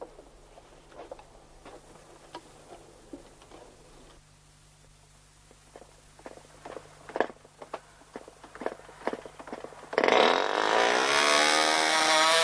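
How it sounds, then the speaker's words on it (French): A small engine is started and runs on, giving a rough, steady drone after a stretch of intermittent clattering and knocking. The engine noise is loud and continuous, filling the final couple of seconds on its own. "mets le moteur en marche"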